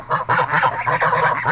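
Several geese honk loudly and close by in repeated overlapping calls, a noisy group of hungry birds gathered around a farm feeding area.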